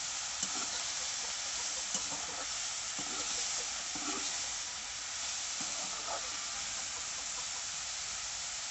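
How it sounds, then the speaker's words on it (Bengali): Bottle gourd curry with turmeric and salt being stirred in a hot pan: a steady close sizzle and hiss throughout, with faint scraping stir strokes scattered across it. "এবার আমি হলুদের গুঁড়োটা দিয়ে দিচ্ছি পরিমাণ মতন নুন দিয়ে দিচ্ছি। দিয়ে ভালো করে নাড়িয়ে নিচ্ছি।"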